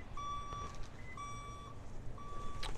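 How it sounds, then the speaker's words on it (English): A beach services vehicle's reversing alarm beeps three times at an even pace on a beach, moderately distant, over a steady background rumble. "That beeping sound"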